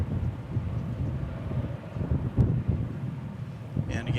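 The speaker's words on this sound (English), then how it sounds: "You can hear we got a bit of wind today." Steady wind buffets the microphone outdoors at Dallas Fort Worth airport, a continuous low rumbling roar throughout with no voices over it.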